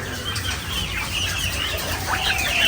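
Chickens and quails cluck and squawk excitedly at feeding time, a busy, close chorus of overlapping bird calls with some wing flapping.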